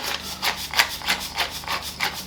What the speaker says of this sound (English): a generous milling of black pepper